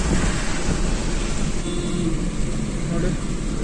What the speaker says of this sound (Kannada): ಮಳೆ ಬರ್ತಿದೆ ಫ್ರೆಂಡ್ಸ್